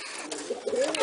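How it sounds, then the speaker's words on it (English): Pigeons in a dirty loft holding rollers and homers coo softly and continuously at close range, with low throaty murmurs over a rustling background. "Got a lot of birds in here."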